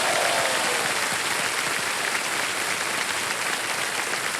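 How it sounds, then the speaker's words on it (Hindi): Steady, dense applause from a studio audience on a Hindi quiz show, loud and continuous throughout with no voices over it. "और तालियां बजती रहे"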